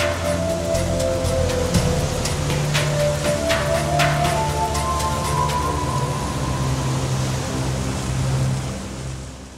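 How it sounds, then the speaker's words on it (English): Storm sound effect of heavy rain and crashing waves around a sailing ship at sea, with a steady broad roar under a background music score and no distinct thunderclap standing out. "After a few days, the ship got caught in a bad storm."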